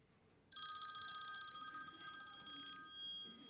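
A telephone rings after being dialled by the audience, a bright electronic ringtone starting abruptly and sounding steadily for over two seconds, fairly faint as heard in a room.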